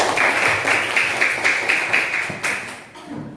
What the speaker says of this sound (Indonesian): Tepuk tangan untuk Nabil.